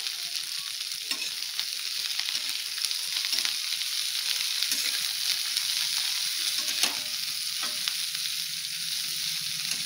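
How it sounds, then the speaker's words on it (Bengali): Cauliflower pieces fry in hot oil for a samosa filling, giving a steady, loud sizzle with occasional stirring scrapes throughout, no voices. "আগে কপিটা ভেজে তুলে নেব, তারপরে আলুটাকে ভাজা হবে।"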